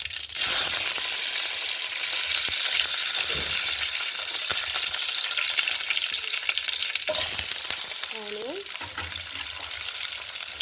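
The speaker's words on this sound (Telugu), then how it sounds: "నూనె బాగా హీట్ అయిపోయిందండి. కొంచెం జీలకర్ర, కొంచెం ఆవాలు యాడ్ చేసి, కొంచెం కరివేపాకు" Cumin, mustard seeds and curry leaves crackle and sizzle in hot oil for puri curry, a steady loud frying hiss broken by spattering pops and a few faint clinks, with no one talking.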